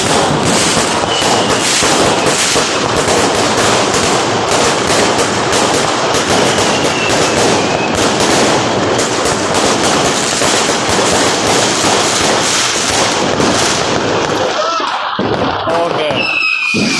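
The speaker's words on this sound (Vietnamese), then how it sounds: "Đây một băng pháo dài." A long string of firecrackers bursting in a dense, continuous rapid-fire crackle, very loud and close, running for many seconds before tapering into a few scattered pops, with voices shouting underneath.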